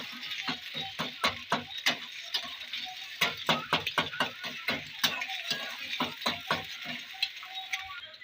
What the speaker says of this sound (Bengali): আবারও নেড়ে চেড়ে ভালো করে ভেজে নেবো ডিমটা